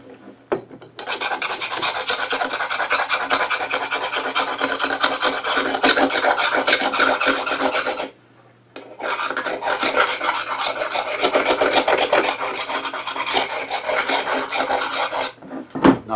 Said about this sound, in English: a little cleaning the clamps here